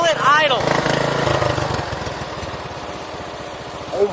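A lawn mower engine idles on a newly fitted carburetor with a steady, close mechanical putter. A burst of revving and talk comes near the start before it settles into an even idle.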